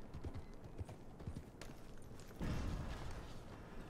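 Horse hooves clip-clop in Red Dead Redemption II, a steady run of soft thuds at close range that grows louder and busier toward the end, with no talk over it.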